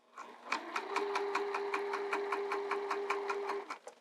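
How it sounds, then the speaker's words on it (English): A sewing machine stitches a skirt straight over a pin, producing a rapid, even train of mechanical clicks over a steady motor hum for about three seconds, close and moderately loud, with no talking. "I'm going to sew over that pin, even though I don't recommend doing that."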